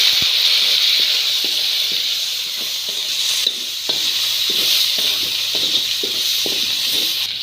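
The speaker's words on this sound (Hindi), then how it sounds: "अब इसमें ग्रीन चिली डालेंगे।" Ground green chilli paste hits hot oil with browned garlic, giving a steady close sizzle with repeated stirring scrapes and taps throughout, no talking.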